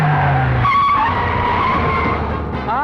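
Ambassador car tyres skidding and squealing as it swerves in through a gate, a loud screeching slide with engine noise, tapering off before a brief second squeal at the end.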